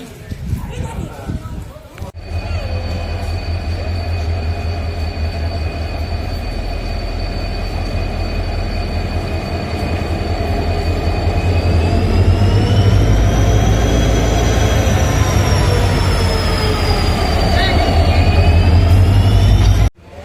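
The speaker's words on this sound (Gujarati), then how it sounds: "ફાઇનલી અમારી ટ્રેન આવી રહી છે, દૂરમાં દેખાય છે." A passenger train on the Bhavnagar to Porbandar line pulls into the station, a loud continuous rumble with a steady tonal whine that rises and shifts as it comes close, then cuts off abruptly.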